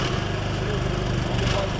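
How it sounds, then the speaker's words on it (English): Police specialist cutting gear drilling through a concrete protest blockade, a loud continuous grinding and buzzing drone with steady mechanical noise throughout, close by and unbroken. "they're starting the business of drilling their way through the concrete blockade"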